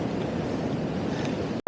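Ocean waves washing up a wilderness beach near dunes at high tide with strong winds, a continuous rushing surf mixed with wind noise, close and fairly loud, cut off abruptly at the end.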